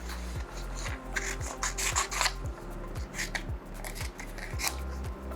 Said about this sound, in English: Only thing I will have to do now is quickly cut out the designs that I want to attach to my mug.